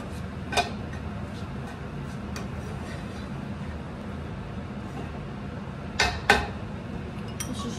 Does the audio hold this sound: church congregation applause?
no